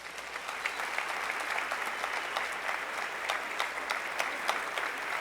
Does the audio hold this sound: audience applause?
yes